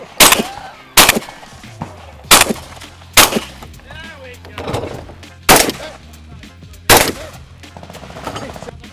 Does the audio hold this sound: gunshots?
yes